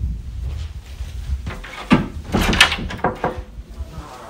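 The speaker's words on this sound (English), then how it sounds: "She's coming to the door right now." A door opens with a few wooden knocks and clunks as someone arrives at a home, short thuds and rattles spread over several seconds against a quiet room.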